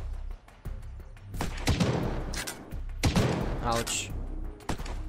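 Several sharp gunshots in an Unturned PvP fight ring out amid background noise, with a voice speaking over part of the exchange.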